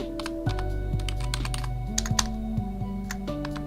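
Keys clatter on a computer keyboard in a quick, uneven burst of close, crisp taps over a steady background hum, with no talking.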